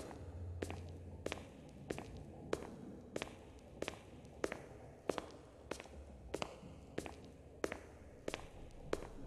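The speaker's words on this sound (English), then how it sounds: "Did I hear a footstep?" Footsteps in a video game set at a lighthouse fall in a steady, evenly spaced rhythm, each step a soft, faint thud, about a dozen in a row with no voices over them.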